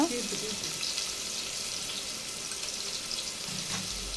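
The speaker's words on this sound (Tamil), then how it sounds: "இப்போது வெங்காயத்தை நல்லா வதக்கி விட்டுக்கலாம்" Chopped onions sauté in a pan for a Tamil-style mutton curry, giving a steady soft sizzle throughout, with faint kitchen water noise and no talk over it.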